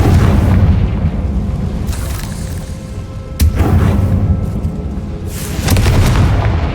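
A Confringo blasting spell explodes in Hogwarts Legacy, a loud booming blast with a sharp crack partway through and rumbling bursts rolling on either side, with no talk over it.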